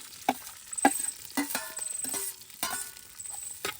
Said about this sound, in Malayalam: എണ്ണ നല്ല പോലെ ചൂടായിട്ടുണ്ട് നമ്മളിതാ ചെറിയ ഉള്ളി ഇട്ട് കൊടുക്കണ്ട കേട്ടോ